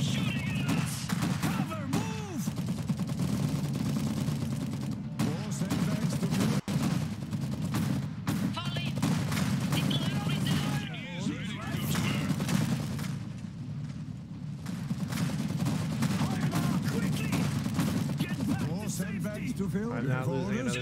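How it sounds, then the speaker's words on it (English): Constant gunfire and explosions in the real-time strategy game Iron Harvest during a multiplayer battle, with dense, overlapping shots and bursts that run throughout, and in-game unit voices calling out over the din. "They're shooting."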